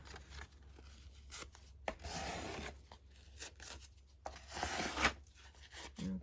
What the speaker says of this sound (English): Spread your glue.